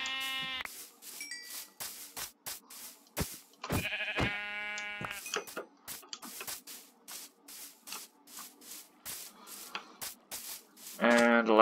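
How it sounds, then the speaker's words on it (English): Several sheep bleats from a Minecraft Bedrock survival game with an SCP mod, sounding in short bursts near and loud against faint background noises and scattered thumps. "Also, hello, sheep."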